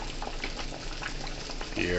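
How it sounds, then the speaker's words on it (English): Beef soup boils in a pot on the stove, giving a steady, close, gurgling bubbling with a brief voice near the end. "hear that bubbling guys?"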